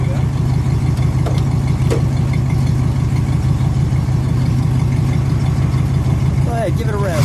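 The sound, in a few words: 1969 Pontiac Grand Prix engine idling rumble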